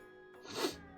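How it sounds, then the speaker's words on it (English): A single sharp, breathy burst of air, close and fairly loud, sounding much like a sneeze, though it is a cough. "I cough in ways that people think I'm actually sneezing"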